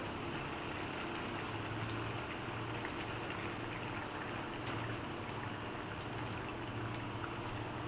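A steady, loud rushing hiss as water hits a hot pan for a fish curry and bubbles, continuous with no talking.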